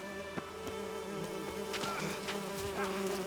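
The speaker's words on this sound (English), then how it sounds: "I'm in a bee's nest." Bees buzzing in a bee's nest in a video game, a steady dense droning hum with wavering tones, close and continuous, with faint background game sounds.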